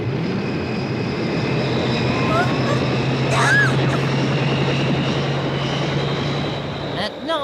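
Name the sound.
cartoon aircraft propellers starting up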